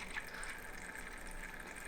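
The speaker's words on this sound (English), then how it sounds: "See, the bubbly sound is coming back." Bubbling and trickling water in a CPU custom water cooling pump loop, a steady continuous gurgle at low level with no talk.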